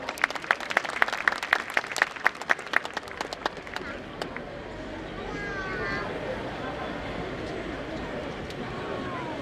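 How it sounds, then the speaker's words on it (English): Audience applause at a school annual function, opening with a burst of sharp, distinct claps that thin out over a few seconds, then giving way to a steady murmur of crowd noise and talk. "Let's give them a big round of applause also."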